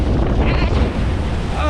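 A log-flume style water ride boat splashes through the Canadian river at Nigloland, with loud continuous rushing and sloshing water and wind buffeting the microphone throughout.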